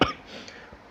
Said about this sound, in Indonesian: lagi enak badan, kayak agak batuk